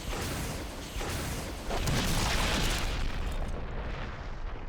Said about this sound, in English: But in Resident Evil, nothing is immune to a rocket launcher.